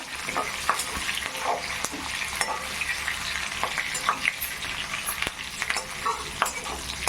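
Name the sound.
curry leaves frying and being stirred in a pan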